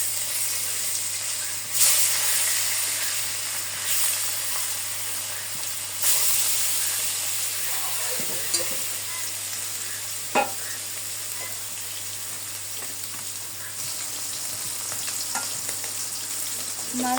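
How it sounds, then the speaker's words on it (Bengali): Fish frying in hot oil in a wok, a steady loud sizzle and hiss that runs throughout, with occasional sharper crackles and spatters over a constant steamy backdrop. "তেল গরম হয়ে গেছে, এখন আমি মাছ দিয়ে দিই।"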